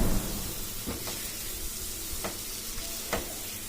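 Thickening mango pulp cooking in a pan for mango paratha, giving a soft sizzle with a few distinct scraping strokes of a spoon stirring it, quiet and close.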